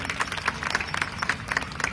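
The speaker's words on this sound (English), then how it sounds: "You can clap for that" An audience at a celebration in Toronto claps in a steady, dense patter of applause that holds for a couple of seconds without any voices over it.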